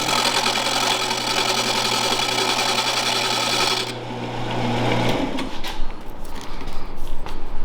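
A hand tool shaving a wooden piece round for a bow saw, a steady close rasping drone that stops partway, then scattered knocks and scrapes.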